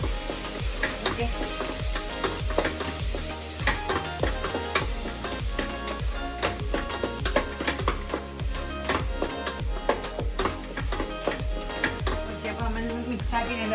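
Green peas masala stirred and sizzling in a pan, a steady frying hiss with repeated scraping stir strokes throughout, close and fairly loud.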